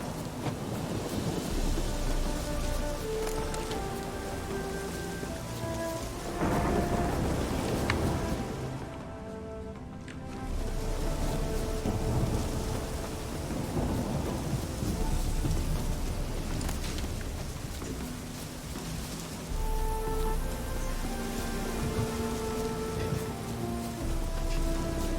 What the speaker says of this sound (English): Whoa, this is a real storm